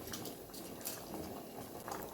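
Jaggery water with whole cardamom pods boiling in a pan, a quiet continuous bubbling and soft popping patter heard close up on its own.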